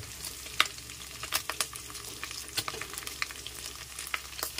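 Garlic sizzling in a saucepan while a spoon stirs it now and then, giving a steady crackling fry with occasional sharp scraping ticks, close and moderately quiet, with no voices.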